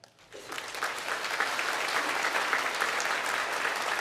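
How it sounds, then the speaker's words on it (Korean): Church congregation giving sustained applause to welcome visiting prayer house members during a Sunday worship service, rising quickly from quiet into a steady, dense wash of clapping. "우리 수고하시는 기도원 회원님들 잠시 자리에 일어나시면 박수로 환영하도록 하겠습니다"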